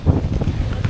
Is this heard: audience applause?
no